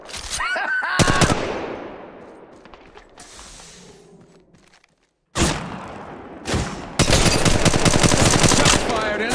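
Repeated automatic gunfire in Apex Legends Mobile, loud rapid bursts with a quieter lull and a brief silence midway, then dense sustained volleys returning near and heavy to the end.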